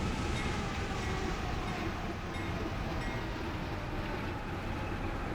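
Locomotives rolling along rails at low speed as they slow down, a steady broadband rumble and rail noise throughout with faint metallic squeals, no talk.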